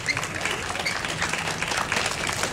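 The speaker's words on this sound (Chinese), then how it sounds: "那我们再次热烈的掌声，谢谢我们这一群哦，美丽、漂亮、可爱、大方、聪明的志工朋友们" An audience at a civic forum claps warmly for the volunteers on stage, producing a continuous, full round of applause from a crowd, with no pauses.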